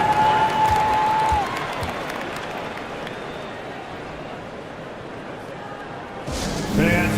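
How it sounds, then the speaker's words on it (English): Video game crowd applause and cheering fill an NBA 2K25 arena, loud and steady at first, easing into a softer murmur before swelling again at the end. "a big round of applause for your Trailblazers youth dance team"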